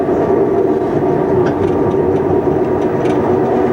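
A train on the Cervignano–Udine–Tarvisio line runs steadily as heard from inside the locomotive cab, a loud continuous low rumble and drone with faint clicks of wheels on rail joints.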